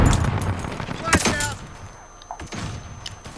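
Bursts of rapid gunfire from a Modern Warfare match, with a quick volley of shotgun-style blasts and sharp impacts up close, then scattered quieter shots as the firefight continues under steady game ambience.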